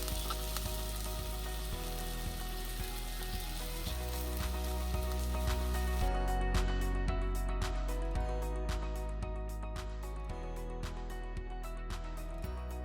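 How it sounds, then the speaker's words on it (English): Onions frying and sizzling in a pot for a Southern stewed shrimp dish, with a steady hiss and periodic scraping and tossing sounds as they are stirred, close and continuous without talk. "you want to continue to toss the onions in the pot very gently, very swiftly, so that they don't stick or burn in the pan."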